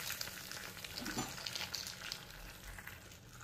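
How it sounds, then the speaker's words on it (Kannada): Mustard seeds crackle and sizzle in hot oil as a tempering for a coastal Karnataka tender bamboo shoot curry: a dense, steady hiss of frying with no voices. "ಈಗ ಇದು ಒಗ್ಗರಣೆಯನ್ನು ಹಾಕೋಣ"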